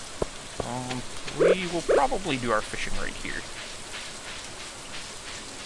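Steady rain falls in Stardew Valley by a lake, making a soft, even hiss that lasts throughout while someone talks over it.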